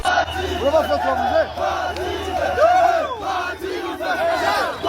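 Rayon Sport football fans in Kigali celebrate a cup win with a dense crowd roaring, chanting and whooping in loud, surging waves of overlapping voices.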